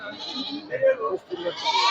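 Goats bleat at a livestock market, a few short wavering calls rising and falling close by, with brief gaps between them.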